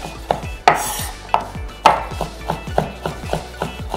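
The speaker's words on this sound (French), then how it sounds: "Vous appuyez toujours ici votre lame sur la planche et vous faites ce mouvement et on coupe avec la partie ici du couteau" A knife chops chili pepper on a cutting board, the blade rocking against the board in a steady run of sharp, close knocks, about a dozen across the stretch with a few louder strikes, no talking.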